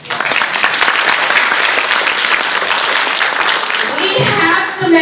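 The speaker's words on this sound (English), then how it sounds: "Let's get a round of applause" A conference audience at a social work advocacy day breaks into sustained, dense applause, a steady wash of many hands clapping close and loud that continues through the whole stretch with a slight swell near the end.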